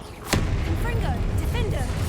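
A Confringo blasting spell goes off in Hogwarts Legacy, a sharp broadband burst near the start followed by a sustained rumbling low roar, with chirpy magical effects layered over continuous game sound.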